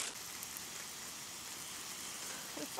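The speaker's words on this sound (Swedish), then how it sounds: "Nu börjar det regna igen" Rain falling steadily outdoors, a soft, continuous broadband patter with no distinct individual drops, fairly faint and even throughout.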